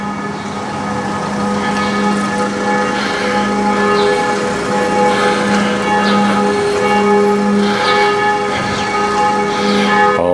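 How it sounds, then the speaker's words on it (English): Church bells ring out across Zurich at seven o'clock in the evening, a steady, sustained peal carrying over busy outdoor street ambience with no voices standing out. "Just hit 7 o'clock, which is why you hear the church bells cranking about."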